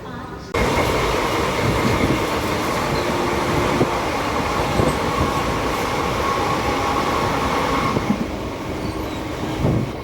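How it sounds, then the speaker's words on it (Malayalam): A passenger train from Shoranur railway station in Kerala rumbles along steadily, with a continuous low roar of wheels and carriage noise, faint squeals and clatter, and muffled voices underneath. "ഷൊർണൂർ റെയിൽവേ സ്റ്റേഷനിലെത്തി ട്രെയിന് കയറി."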